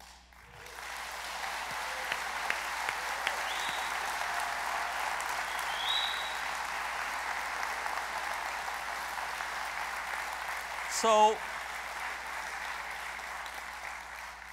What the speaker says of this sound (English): TC70 realizes the applause that you just gave it.